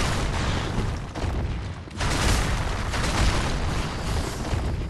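A lizard enemy breathing fire in Dark Souls 3 produces a loud, sustained whooshing blast with a rumbling low end, swelling again around the midpoint and continuing to the end.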